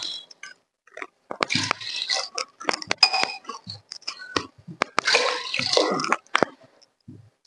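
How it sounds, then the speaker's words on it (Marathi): Water pours and splashes into a pressure cooker holding dal, in bursts with clinks of a glass against the metal rim, close and fairly quiet. "याला पाणी 3 ग्लास घालणार आहे"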